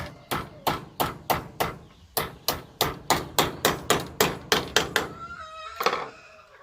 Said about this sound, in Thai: ตอกตะปูสามเล่มครับพี่น้อง เพื่อความมั่นคง